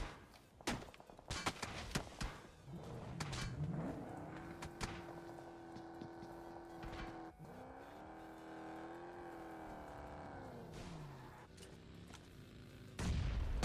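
Gunfire crackles in a battle royale video game during a live esports quarterfinal, with sharp shots and bursts up front, then engine-like droning and scattered distant firing through the rest of the game audio.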